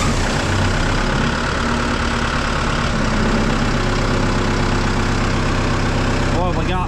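Heavy machinery engine in a workshop, serviced with new filters, cranks up and settles into a loud, steady idle that drones continuously with a low rumble throughout.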